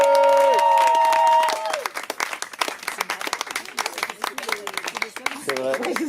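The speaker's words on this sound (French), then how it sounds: "Donc je vous demande d'applaudir très très fort à la venue au micro de Pierre-Alexis." An audience at a slam poetry night in Vence claps for the next poet taking the microphone, a burst of applause and cheers that follows a voice and fades into scattered clapping as talk resumes.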